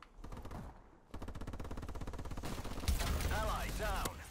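Rapid automatic weapon fire in Call of Duty Advanced Warfare's Exo Survival mode, a steady close burst followed by heavier shots and whooshing effects, with game voices underneath.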